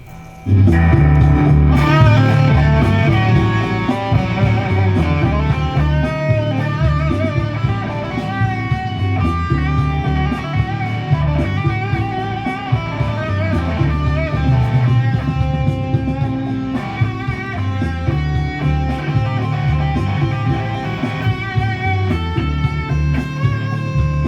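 A guitar plays flowing minor-key melodic phrases in the Dorian mode, minor pentatonic with an added note, loud and close, with sustained notes ringing over a full, steady backing.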